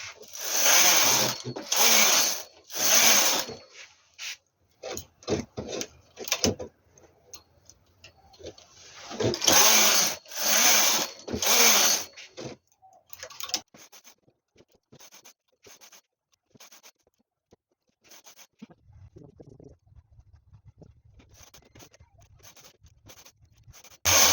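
Knitting machine carriage being pushed back and forth across the needle bed while knitting rows of a V-neck sweater, with loud bursty sliding passes at first and then softer scattered clicks and ticks.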